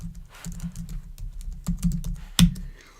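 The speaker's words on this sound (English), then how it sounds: "and I'll type it here in the chat" Typing on a computer keyboard while entering a resource into an online chat: a steady run of close, crisp key clicks with a sharper, louder press near the end, no voices.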